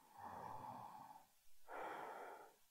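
Slow, deep breaths during a vinyasa yoga pose, a long audible exhale followed by a pause and another drawn breath, quiet and close with no speech.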